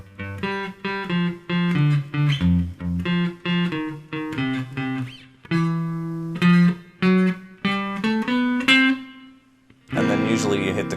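An electric guitar plays a Basie ending lick, a quick run of picked single notes climbing the 5th and 4th strings, then a short pause before a final strummed chord rings out.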